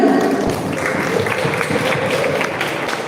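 An audience at a green-generation ambassador finalist event in South Sumatra applauds, a steady, loud wash of clapping that holds without a break.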